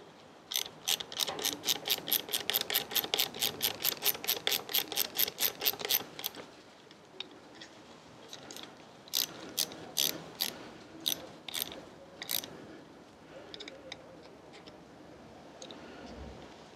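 A ratchet tightens the brake lever clamp on the handlebar of a Royal Enfield Meteor 350 bobber, with a fast run of evenly spaced clicks close up, then slower, spaced strokes that fade toward the end.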